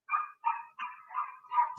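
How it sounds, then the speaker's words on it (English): A neighbor's dog barks five times in a quick, even series, moderately loud and fairly close, with no talking over it. "sorry, it's my neighbor's dog."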